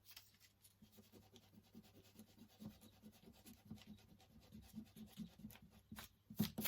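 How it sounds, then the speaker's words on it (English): An eraser rubs out part of a pencil drawing on paper, a faint, close, rapid back-and-forth scrubbing that continues throughout, growing slightly louder toward the end. "I'm going to rub this piece out"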